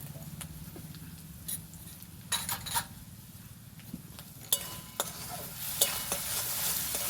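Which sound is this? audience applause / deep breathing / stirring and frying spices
stirring and frying spices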